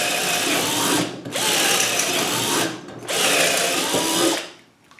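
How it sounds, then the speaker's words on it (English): A small 12 volt Chicago Pneumatic cordless drill in speed mode 2 bores holes in wood with three close, loud whirring runs separated by brief pauses. "when you pop the small 12 volt drill in speed mode 2, popping holes in wood is also no issue."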